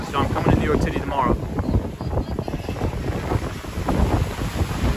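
Strong gusty wind buffets the microphone on Sunny Isles Beach in Miami, a loud rumbling roar that rises and falls throughout, with someone talking underneath.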